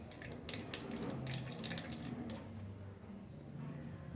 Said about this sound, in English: you are going to gently filter this kerosene to this other container